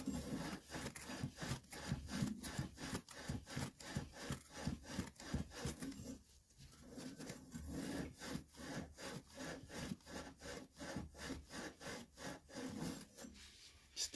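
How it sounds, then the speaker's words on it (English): A Scotch-Brite pad scrubs a freshly cut copper water pipe while an outdoor spigot is replaced, giving a steady run of rapid back-and-forth rasping strokes, close and fairly loud, with a brief pause midway before the scrubbing resumes. "We're going to go get our Scotch-Brite and clean that up."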